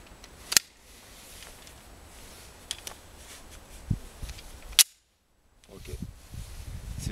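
Walther PPQ 9mm pistol fired at 15 metres during dynamic shooting drills, with a few sharp, isolated cracks spaced seconds apart and quieter handling noises between them.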